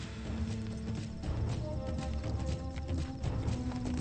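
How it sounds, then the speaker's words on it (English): Horses clop along a hilly trail in steady, close hoofbeats, their footfalls repeating under a constant rumbling background. "The horses are also suffering from the punishing hills."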